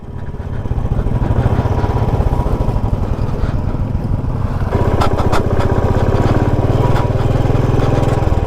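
A motorcycle engine runs on a mountain road above the Chandratal base camp in Spiti Valley, a loud, steady, continuous drone close by that barely changes over the whole stretch, with no talk.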